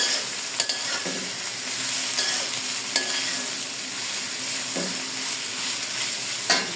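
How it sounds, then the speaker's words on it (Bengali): Chopped onion fries in a pan for a home-cooked lunch, with a steady close-up sizzle broken by a few stirring scrapes and taps. "সুন্দর করে পেঁয়াজটাকে আমি ভেজে নেব"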